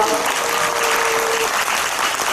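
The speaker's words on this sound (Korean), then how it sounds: "박수 좀 크게 쳐주세요" Applause from the audience at a climate and school-meals conference session, dense continuous clapping at steady loudness throughout, with a brief tonal squeal partway through.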